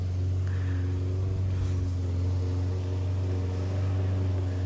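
A lawnmower drones steadily nearby in a Texas yard during gusty wind, a constant low engine hum running for several seconds with no talk.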